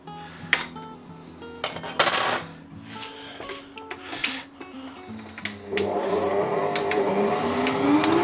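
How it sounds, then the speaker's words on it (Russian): An egg being whisked into rhubarb pie batter in a bowl, with clinking utensil taps and then a steady rapid whisking rhythm that grows louder in the second half; no talking. "А теперь мы добавим одно яйцо и продолжим взбивать."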